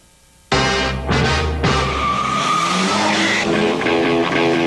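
Street racing cars skid on pavement at night, with a loud, sudden tire squeal and engine roar that bursts in after a short quiet moment and continues close and intense throughout.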